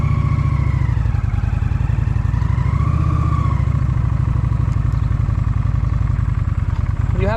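A Honda cruiser motorcycle, one of a Rebel 1100, Shadow 750 or Fury 1300, pulls away: a close, steady engine chug that rises in pitch as it accelerates through gears, with clattery mechanical texture throughout.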